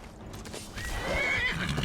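A horse in the Skyrim video game gives a rising whinny while hooves clip-clop on the ground, fairly quiet and close, with the neigh swelling over the final second.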